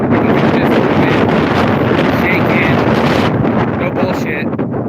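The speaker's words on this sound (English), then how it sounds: "it's so damn windy" Loud, continuous wind buffeting the microphone, a roaring rumble that barely lets up for the whole stretch.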